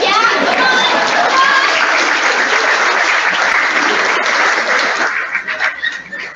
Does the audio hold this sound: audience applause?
yes